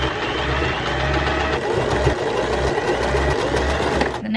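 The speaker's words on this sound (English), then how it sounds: "This one's a very good beginner sewing machine." Beginner sewing machine stitching a maxi dress, running in a steady close mechanical whir with a repeating low chug, pausing briefly and restarting, with no talk over it.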